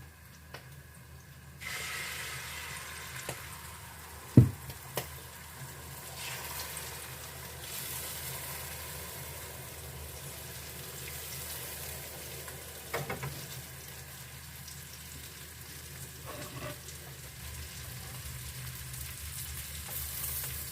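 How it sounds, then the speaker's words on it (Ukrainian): Egg pancakes fry in a lightly greased pan on a gas stove, a faint steady sizzle running throughout with a couple of brief clinks and taps. "смажити млинці ну наші"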